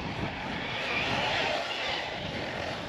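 An e-Performer electric RC car running on a 3S battery whines steadily at a distance, a continuous high motor drone with a faint rising and falling pitch.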